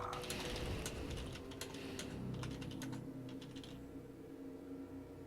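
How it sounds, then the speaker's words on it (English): Rapid typing on a computer keyboard during a Warcraft 3 game, a dense burst of clicky keystrokes that trails off after a few seconds over low background game sound. "oh, no one can see what I'm typing."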